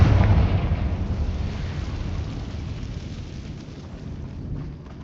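A Confringo fire spell explodes in the Hogwarts Legacy video game: a loud, close blast right at the start that fades into a long, low rumbling decay over several seconds, with no voices.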